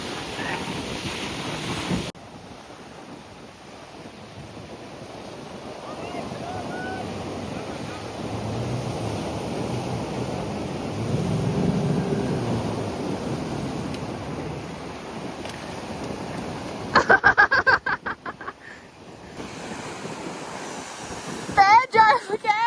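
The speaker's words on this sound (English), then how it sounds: "The boats are currently getting hammered by waves because it's pretty windy today" Ocean waves wash and break steadily off Fraser Island (K'gari) on a windy day, gusty wind buffeting the microphone, with a few sharper knocks and splashes near the end as waves pound boats.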